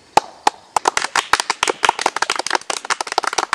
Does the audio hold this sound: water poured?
no